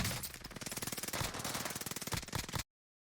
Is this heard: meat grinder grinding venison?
no